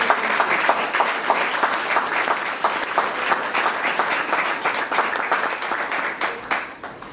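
Sustained, dense applause from an audience at a ceremony, many hands clapping together steadily for several seconds, full and close, with no voices rising above it.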